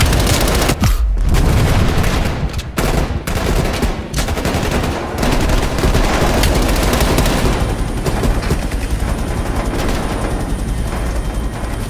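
Heavy gunfire rakes from a helicopter in Call of Duty Black Ops Cold War, dense continuous bursts roaring loud and close, with brief gaps and a sustained rotor-like drone underneath.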